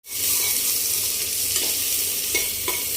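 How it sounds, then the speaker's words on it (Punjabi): Onion tadka frying in a pan, a loud, steady sizzle close by with occasional scrapes and knocks of the spoon stirring through it; no talking. "ਤੜਕਾ ਲਾ ਕੇ ਥੋੜਾ ਜਿਹਾ ਪਿਆਜ਼ ਪਾ ਕੇ"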